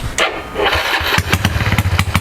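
A Dream Super Cub motorcycle engine with a 56 mm piston cranks and catches, then settles into a rapid, uneven putter of close, loud exhaust pulses.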